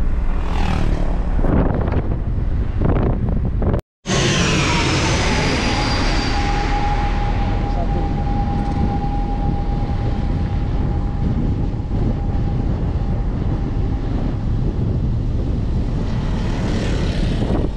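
Propeller airplane passing near Pattimura Airport in Ambon, a loud continuous drone with a steady whine that rises as it nears, then fades slowly over many seconds, with no talking.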